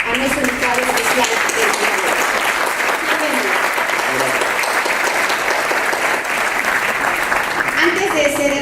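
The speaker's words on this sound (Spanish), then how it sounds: "Démosle un fuerte aplauso a nuestro invitado especial." An audience at a keynote lecture applauds an invited special guest, a dense, sustained wash of clapping from many hands that holds steady throughout, with a few voices faintly mixed in.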